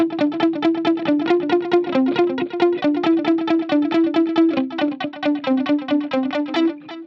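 An electric guitar plays a quick, repeating single-note line through a Line 6 Pod Go, with amp drive and delay switched on. The notes are crisp and evenly spaced at a lively pace, loud and close, and each one trails into a slight echo.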